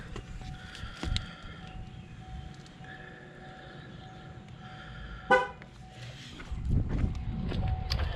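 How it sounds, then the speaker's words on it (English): A 2016 GMC Sierra pickup gives a single short horn honk during a tire pressure sensor relearn, a brief toot midway through amid low engine idle and rumble, with a louder rumble building near the end. "You're going to hear the horn honk."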